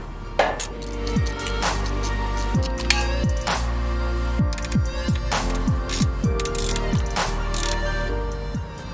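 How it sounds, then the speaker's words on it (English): Ratchet wrench tightening transfer case bolts on a 1995 Bronco, with rapid clicking ratchet strokes repeating throughout, mixed with metallic clinks and a low background hum, close and fairly loud. "Then it was time to tighten all the bolts."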